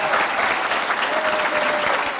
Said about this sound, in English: Can we give our panelists a round of applause?